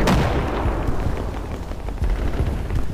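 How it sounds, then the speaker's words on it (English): Tank cannon shells and explosions in the Men of War video game: a loud, dense barrage of booming blasts and impacts rolling continuously with no talk. "Big explosions, lots of shells recoiling off the armour here, deflecting."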